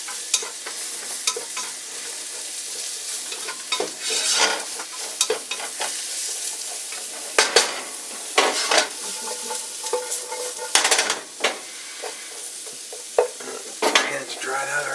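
Mushrooms sizzle in hot oil in a pan while a utensil stirs them. Steady frying hiss is broken by repeated scraping and stirring bursts, loud and close, with no voices.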